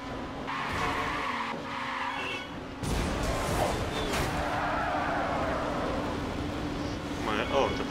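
A car in Burnout Revenge brakes hard and skids with long tire squeal over roaring engine noise, a loud crash-like burst partway through, while someone talks over it.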